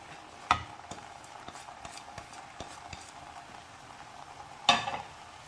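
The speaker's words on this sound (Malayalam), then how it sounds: "നന്നായിട്ടൊന്ന് മിക്സ് ചെയ്യണം." Roasted coconut is stirred into a simmering pineapple sweet curry in a pan, with two sharp spoon knocks against the pan, light scrapes and a faint sizzle underneath.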